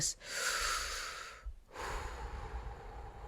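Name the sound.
taking a breath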